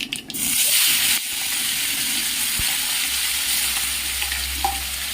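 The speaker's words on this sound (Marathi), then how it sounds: "तेल ह्या ग्रेव्हीमध्ये मुरेपर्यंत थोडंसं हे भाजून घ्यायचे असते ग्रेव्ही" Gravy poured into hot oil with mustard seeds and cumin for a brinjal curry, loud vigorous frying and sizzle with stirring scrapes, an initial burst then a steady hiss and bubbling close by.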